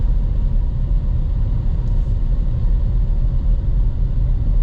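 Steady low rumble of a car engine and tyres rolling through the downtown streets of Prachuap Khiri Khan, Thailand, heard from inside the vehicle, constant and unbroken with no talking.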